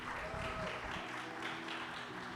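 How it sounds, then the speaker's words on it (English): Audience applause at a startup pitching competition event, a steady wash of clapping from a crowd that stays fairly even throughout, with a low hum of room noise underneath. "Big applause."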